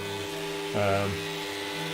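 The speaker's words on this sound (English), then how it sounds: "And it just jackhammers away basically as a mini jackhammer." A Dremel 290 engraver hammers at rock on a fossil, a steady high buzzing whine that briefly grows louder and rougher as the tip bites into the stone.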